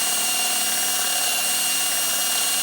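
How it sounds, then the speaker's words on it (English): Power drill boring into a wooden rice bowl blank, running steadily under light pressure as a continuous, loud whirring drone with no talk. "Now I'm using the weight of the drill, nothing else."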